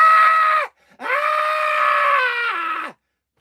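A voice lets out two long, loud, strained screams separated by a brief pause, imitating a child screaming.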